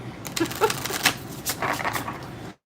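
A deck of cards is shuffled during a live card reading, a steady close rattling and clattering riffle lasting a couple of seconds before stopping abruptly, with no talk over it.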